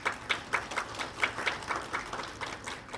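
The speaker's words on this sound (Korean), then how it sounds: "박수 부탁드리겠습니다" Scattered applause from the audience at a memorial ceremony marking the 64th anniversary of Jo So-ang's death, a few claps standing out but mostly a moderate, blended patter heard alone at middle distance.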